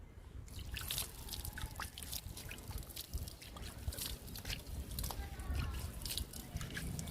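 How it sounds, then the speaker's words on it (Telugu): Homemade peel liquid fertilizer is poured over an adenium plant, dripping and trickling through the branches and soil in a steady, close, fairly quiet patter, with no talk. "ఎడేనియం మొక్కకి ఇచ్చేద్దాము లిక్విడ్ని."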